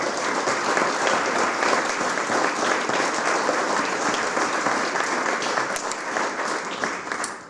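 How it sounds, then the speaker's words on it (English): An audience at a civic celebration gives a warm round of applause for two former mayors, a loud sustained wall of clapping that stays even throughout with a few brighter claps poking out. "I just give a big, warm round of applause for Jim and Jeff for all they did for us"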